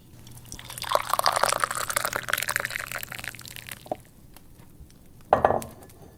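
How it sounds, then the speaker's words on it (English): Herbal tea of chamomile and celastrus is poured into a cup, a steady close liquid stream with faint clinks, then a brief pause and a final short splash. "Allow me to pour you some tea."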